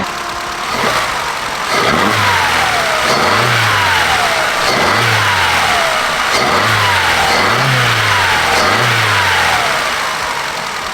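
A Vauxhall Astra engine running without its MAF sensor, close and loud, revved in a series of about six regular blips that each rise and fall back toward idle.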